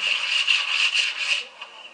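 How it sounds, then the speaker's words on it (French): Wooden oars being sanded by hand in a sail loft, a steady close rasping rub in repeated strokes that fades to quieter scraping near the end. "on ponce les avirons"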